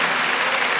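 Applause from a church congregation during a Catholic sermon, dense steady clapping filling the short moment without speech.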